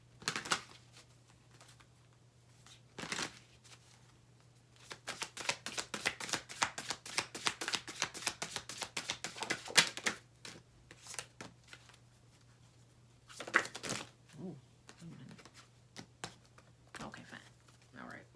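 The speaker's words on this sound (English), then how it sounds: "And then we're going to pull some oracle cards" A deck of oracle cards is shuffled in quick, crisp riffling bursts, followed by a pause and then softer snaps and slides as cards are pulled, close and fairly quiet over a low hum.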